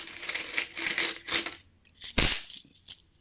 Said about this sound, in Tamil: இது எல்லாமே ₹1 காயினு.